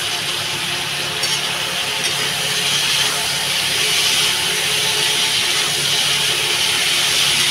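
Rohu fish and potato curry with turmeric and chili powder sizzles steadily in a pan as it is stir-fried, giving a continuous close hiss with no speech.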